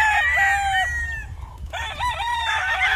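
A Kelso Roundhead gamecock crows on a game farm, two loud drawn-out calls close by, the second starting right after a brief pause, with faint farm background and no talk.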